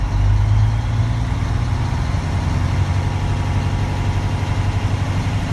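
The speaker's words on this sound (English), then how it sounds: "I'll bring the RPM to 1500" A truck engine runs steadily at about 1500 RPM during an air brake test, a loud, continuous low rumble with an even drone throughout.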